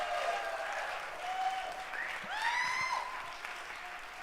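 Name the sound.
applause for Professor Phil Keene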